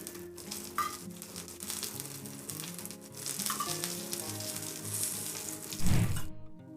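Fish frying in oil on low gas while a little more oil is added over the top, a steady close sizzle with faint scraping and a short louder splash or crackle near the end before quiet.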